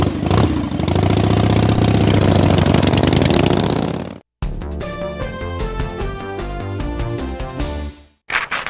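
A blue 1969 Chevrolet Camaro engine runs close by with a loud, steady idle, then a brief cut-off and a rougher, throbbing rumble that carries on to the end.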